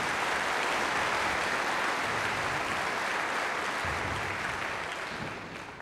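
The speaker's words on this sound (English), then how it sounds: "Please give them a round of applause." Steady, full applause from an audience at a high school madrigal choir event continues throughout and fades slightly in the final second.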